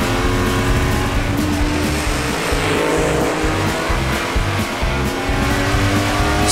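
Cartoon toy vehicles race in a tense children's animation contest, a small racer pushing to overtake a black SUV, with steady loud engine revving and roaring running continuously throughout, no voices.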